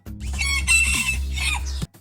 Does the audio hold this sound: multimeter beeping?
no